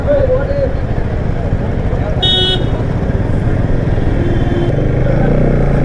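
A Bajaj NS200 motorcycle engine drones steadily and loudly on a morning ride climbing toward a viewpoint near Kamakhya temple in Guwahati, with a short horn toot and voices talking over the engine.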